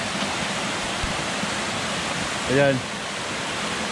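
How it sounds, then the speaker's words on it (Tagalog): Fikong Falls, a small two-tiered waterfall, pours in a steady broadband rush that holds throughout, with a brief spoken word partway through. "Hindi naman siya siguro matawag na falls, pero waterfall eh."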